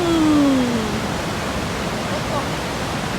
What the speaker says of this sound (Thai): น้ำตกค้อนพระเพง